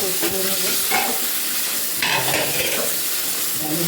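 Soybean chunks are stirred and fried in a spiced masala in a pan for a vegetarian dish, giving steady loud sizzling broken by repeated scraping stir strokes, with no voices.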